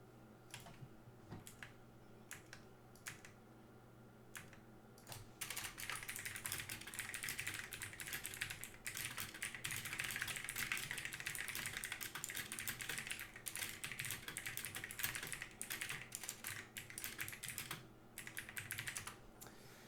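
Rapid mouse clicks on a computer during an online Pauper card match, light crisp ticks in scattered bursts that thicken into a dense run, close and faint with no talking.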